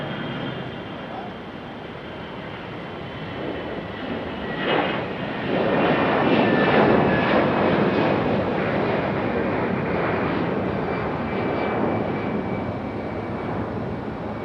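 A jet airliner taking off from runway 23 right at Raleigh-Durham airport, its engine roar swelling into a loud, broad rumble midway and holding steady to the end.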